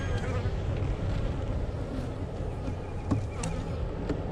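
Honey bees swarm around a blown-over hive outdoors, a dense, steady buzzing drone filling the whole stretch at moderate level, with a few faint clicks and handling sounds on top.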